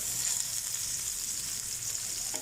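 Gola kababs fry gently in a pan over a low flame, giving a steady, soft, continuous sizzle with no voices over it.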